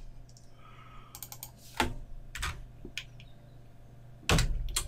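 Computer keyboard keys clicking as code is typed into an Excel VBA editor, a few sparse taps and short bursts at close range in a quiet room, with a louder clack near the end.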